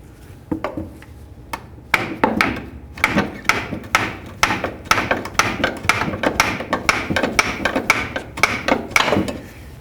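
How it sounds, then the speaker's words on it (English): Hammer blows drive the front passenger-side CV axle out of a 1994-2004 Chevy S-10, a close series of sharp metallic bangs in an irregular, quickening rhythm with brief gaps between strikes. "Let's go ahead and bonk on this axle and try to drive it out."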